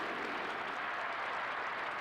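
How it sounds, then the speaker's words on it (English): A hall audience applauds steadily and densely throughout, a continuous wash of many hands clapping together with no voices rising above it. "Tous les Afro-Asiatiques dans la salle applaudissent."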